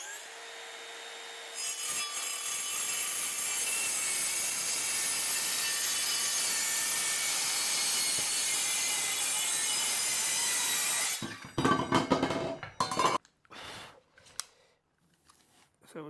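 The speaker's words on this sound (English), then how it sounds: "We're going to use circular saw. It is with a metal cutting blade in it" A circular saw fitted with a metal-cutting blade screams loudly through an insulated metal panel, a sustained harsh whine lasting about nine seconds before breaking off into a few short, choppy bursts and rattles as the cut finishes.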